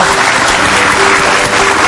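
Studio audience applause on the Hitam Putih talk show for a bubble performer from Surabaya and his partner, a loud, close, unbroken burst of many hands clapping, with a faint tone beneath.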